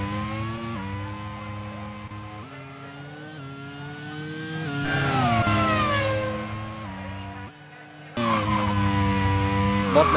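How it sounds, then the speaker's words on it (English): Racing car engines in a 1991 Japanese Grand Prix racing video game, with a sustained engine drone shifting pitch and a tyre lock-up skid squeal, loud and close, dropping briefly before the engine roars back. "Otto Renson locks up"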